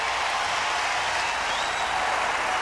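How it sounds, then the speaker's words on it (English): Crowd applause at the US Open tennis tournament for a Grand Slam champion, a dense, steady clapping that fills the stadium without pause. "as the crowd gives you one more round of applause for a Grand Slam champion"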